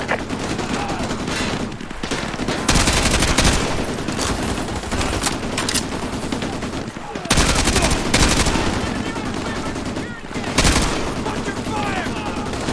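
Dense gunfire in Call of Duty: Modern Warfare 2 Remastered, in a neighborhood combat mission: sustained automatic bursts keep going throughout, broken by a few short pauses, loud and close over a constant background of battle noise.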